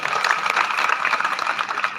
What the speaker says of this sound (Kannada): ನೀವು ಚಪ್ಪಾಳೆ ಹೊಡೆದ್ರಿ